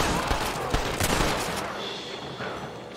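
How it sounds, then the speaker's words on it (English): Gunfire erupts in the Red Dead Redemption video game as a rapid burst of loud, overlapping shots during the first second and a half, then trails off into a quieter ringing tail. "Shot him in the leg."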